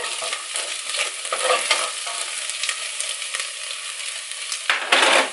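Spices stirred around a hot frying pan, a continuous sizzle with scraping utensil strokes across the pan, close and loud, swelling in a burst near the end.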